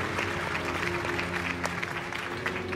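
Audience applause at the Chittara Star Awards 2024 ceremony as the Best Comedian award is presented, a dense, steady wash of clapping from a crowd, fairly loud and sustained throughout with a faint hum beneath.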